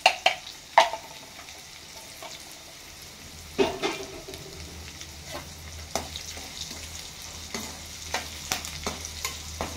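A pot of dal with mixed vegetables, fenugreek and coriander powder simmering: low steady bubbling punctuated by sporadic pops and a few sharper knocks, fairly quiet and without speech.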